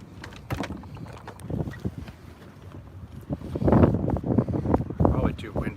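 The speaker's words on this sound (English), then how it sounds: "Probably too windy up here." Wind gusts across a boat lying at anchor, a rough, uneven rumble of microphone buffeting that swells louder in the second half, with occasional knocks.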